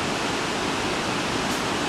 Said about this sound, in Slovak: Sekompo vodopád a Fidži vodopád.